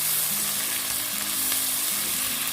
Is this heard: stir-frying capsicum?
yes